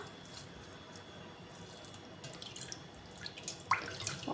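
Water splashing and dripping as a homemade face treatment is rinsed off at a sink, soft trickles and drips growing busier and louder toward the end, with no talk.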